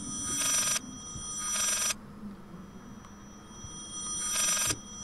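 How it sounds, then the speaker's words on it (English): An old-style bell telephone rings in the Layers of Fear video game, sounding three loud trilling bursts with a low ambient hum between them. "Look, I'm not answering the phone."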